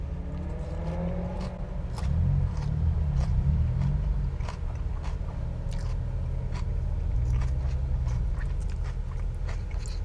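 Crunchy KFC coleslaw being bitten and chewed close up, a run of wet, crisp crunches over a steady low background rumble.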